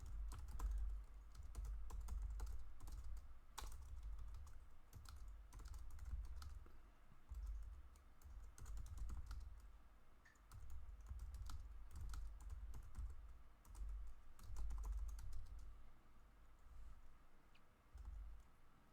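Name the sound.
typing on a computer keyboard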